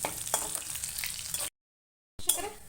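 Dried fish fries gently on a low flame, a soft steady sizzle with a few stirring scrapes, broken by a short stretch of total silence before the frying resumes.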